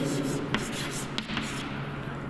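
Pen or chalk writing strokes during a microbiology lecture, quiet scratchy bursts coming in short clusters over low room hum, with a voice faintly present nearby.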